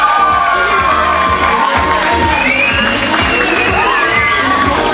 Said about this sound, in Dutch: Mag ik ook een hartelijk applaus voor Axel de Moor.